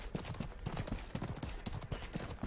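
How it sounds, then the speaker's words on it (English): Rhythmic clip-clop of horse hooves trotting on hard ground in the video game Realm Royale, continuous and fairly close, with a faint game-like ambience behind. "I hear horses."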